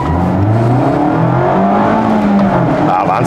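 A 2023 or 2024 Mazda MX-5 accelerates hard, its engine note loud and close, climbing steadily through the revs almost to the limiter, with pitch rising and falling between gear changes.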